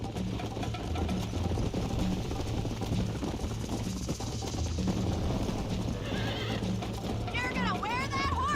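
Horse hooves clip-clop at a steady gallop in the Western video game Red Dead Redemption, with a whinny near the end, over continuous game ambience and music and voices talking.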